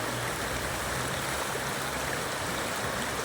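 River water rushes in a steady, broadband hiss without a pause, close by and fairly even in level, with no voices over it.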